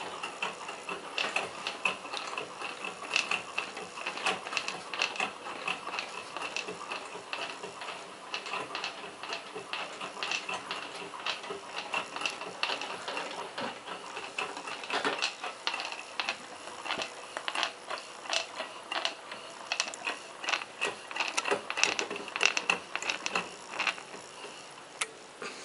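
Small Stirling engine running over an alcohol burner, giving a fast, steady, faint mechanical ticking and clattering that continues evenly throughout with no voices.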